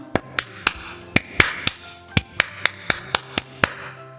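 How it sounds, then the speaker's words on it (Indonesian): A group performs the Pramuka scout clap, a patterned sequence of about a dozen sharp, loud claps in a quick, uneven rhythm with brief pauses, close and without talk. "Tepuk pramuka."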